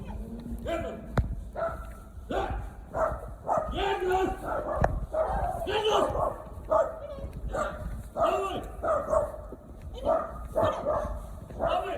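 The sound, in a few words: dogs barking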